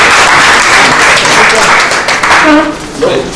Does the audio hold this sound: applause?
yes